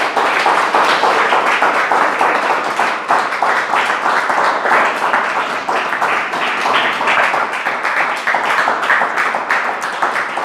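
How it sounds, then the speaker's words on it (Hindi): A church congregation claps together to glorify God after a sermon, with dense, continuous applause filling the room at steady loudness, with no voices over it. "आइए हम परमेश्वर की महिमा के लिए ताली बजाएंगे।"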